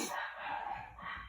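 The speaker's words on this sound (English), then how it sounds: "Oh my god, dogs are going nuts upstairs." Dogs bark and yip excitedly from upstairs, a muffled, fairly faint burst of barking heard through the floor of a room.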